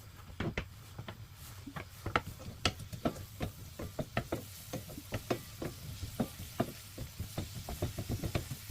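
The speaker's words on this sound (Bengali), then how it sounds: "পেঁয়াজটাকে আমরা দিয়ে অয়েলের মধ্যে একটু সটে করে দেবো" Chopped onions sautéing in oil in a pan for a tilapia fish curry: a faint, steady sizzle broken by many small, irregular taps and knocks.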